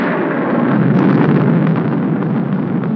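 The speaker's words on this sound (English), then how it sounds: "I'm afraid of the thunder and lightning." Deep, sustained rumbling thunder from a storm in a 1946 film drama, a loud continuous roll with no talk over it.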